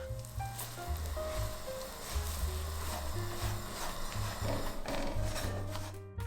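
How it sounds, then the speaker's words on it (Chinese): Scallions sizzling in hot cooking oil in a wok, a steady, loud frying hiss that continues without a break. "油热之后再加入50克的小香葱"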